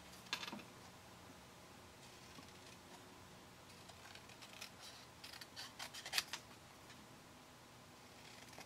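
Scissors snip through paper to cut out a small printed greeting for a mini Christmas bakers box, a few quiet, close crisp cuts clustered near the start and again later over a faint background.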